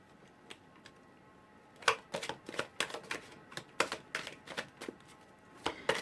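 Oracle cards being shuffled by hand, a quiet run of crisp riffling flicks and taps in irregular bursts, close by with no talking.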